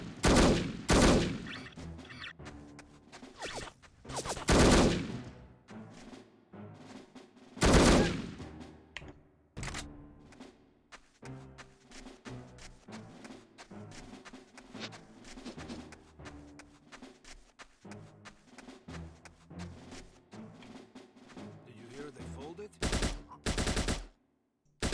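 Bursts of machine-gun fire in the shooter No One Lives Forever, loud rapid volleys striking a fence, repeating in several heavy salvos with quieter game ambience between them.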